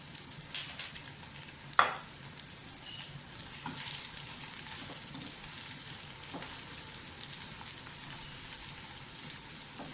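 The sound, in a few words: cumin and green chillies frying in oil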